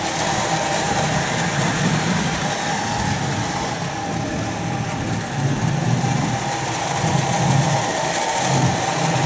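A 1979 Lionel O-gauge model train locomotive runs steadily with a continuous motor whir and rumble, loud and close throughout, with no talking.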